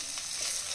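Onion and cabbage fry in a pan with a steady, close sizzle throughout a brief stretch, and no one speaks.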